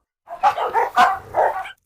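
A hunting dog barks close and loud, a short burst of three or four yipping barks with whiny edges, alone without talk.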